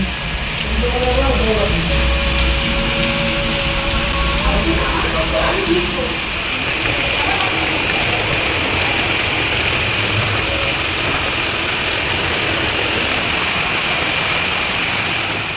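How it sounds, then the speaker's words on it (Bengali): Heavy rain pours steadily in a dense, unbroken roar close by, with a faint engine-like hum underneath for the first few seconds. "এখন ঠিক কতটা জোরে বৃষ্টি পড়ছে"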